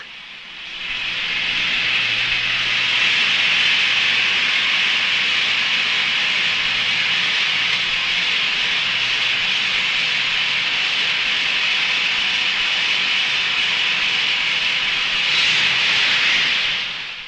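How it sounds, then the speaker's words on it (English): A truck-mounted hydraulic rock drilling machine gives a loud, continuous grinding roar that holds steady for over fifteen seconds, rising in and fading out at the ends. "Hydraulic rock drilling machines are mounted on a specially designed truck."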